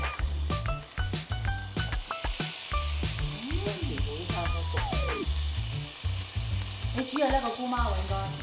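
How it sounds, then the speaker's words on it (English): Bacon fries in a restaurant-style pan for Singaporean rice noodles, a steady close sizzle with repeated clanks and stirring, while a low background hum and brief tonal squeaks run underneath. "Now we're gonna put the bacon in."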